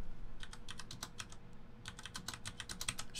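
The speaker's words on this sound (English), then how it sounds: "Just type that in." Keys clatter in quick, steady bursts on a computer keyboard as figures are entered into an Excel spreadsheet, close and clear with brief pauses, no voices.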